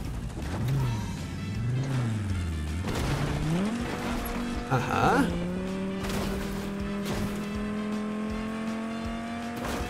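Car driving in Fortnite Chapter 5 Season 4, an engine tone rising and falling with shifts, tire squeal and a revving surge midway, then a steady drone, while players talk over it.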